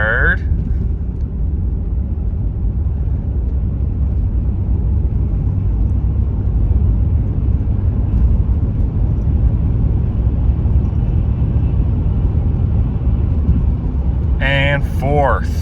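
A car engine drones steadily and loudly from inside the cabin as the vehicle accelerates through second and third gear in quick succession, a continuous low rumble with a brief voice near the very end.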